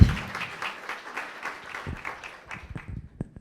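Applause from an audience at an evening round-table talk on print and web eco-design, a scattered patter of clapping that thins out and fades toward the end.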